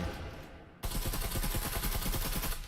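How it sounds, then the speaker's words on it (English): Grenade and rapid gunfire through a table in the VR shooter Breachers, a dense stream of loud, evenly spaced shots that bursts in suddenly and continues steadily without pause. "The nade and shots through the table."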